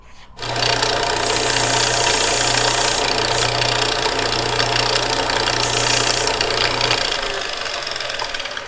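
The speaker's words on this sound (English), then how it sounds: "I'm going to run this on the sander and get those down and kind of taper it down a little bit" A sander grinds down the threads of a bolt for a tripod bracket, giving a loud, steady whirring drone with a low hum that runs for about seven seconds before easing off slightly.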